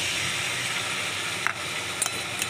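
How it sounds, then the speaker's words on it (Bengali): Chitol fish curry base with yogurt stirred in a hot pan, a steady close sizzle with a few brief scraping clicks from the spatula and no voices. "এবারে সুন্দর করে টক দইটা দিয়ে দিচ্ছি, দিয়ে এটাকে এখন ভালো করে আর একটু কষিয়ে নেব।"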